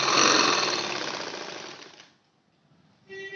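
A sewing machine runs a straight plain seam along fabric with a fast, even mechanical whirr, close and loud. It slows and stops after about two seconds, then briefly starts again.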